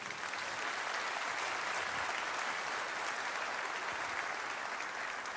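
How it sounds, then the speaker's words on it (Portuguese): A church congregation applauding in praise, a dense, even roar of many hands clapping that holds steady throughout without a break, heard from within the hall. "Aleluia, você pode aplaudir ao Senhor."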